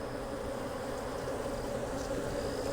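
Honey bees buzz densely around a hive that has just swarmed, a continuous close drone of many wings with a few individual bees passing nearer, no voices.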